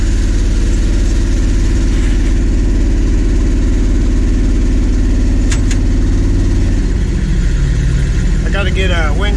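A loud, steady engine drone fills the cab of a classic farm truck as it drives toward the muffler shop, with short bursts of rattling near the end.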